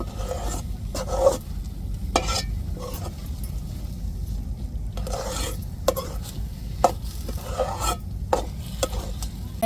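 A spoon works through a mixture of boiled milk in a pan, giving repeated rasping scrapes in short bursts over a low steady hum.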